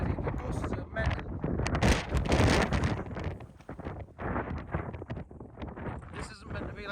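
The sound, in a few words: strong gusty wind at a camp in Scotland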